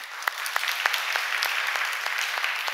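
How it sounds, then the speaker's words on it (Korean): A church congregation at a Wednesday evening Korean service in Paris breaks into warm, sustained applause, with many overlapping hand claps at close range and no voices above it. "예, 박수."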